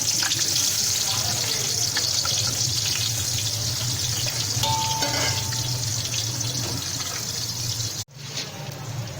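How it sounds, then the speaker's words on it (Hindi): Chopped onions fry in oil in a cooking pot for a liver curry, giving a loud, continuous sizzling hiss that stays steady almost to the end and briefly cuts out near the close. "अब इसमें मैं प्याज डालूंगी कटे हुए।"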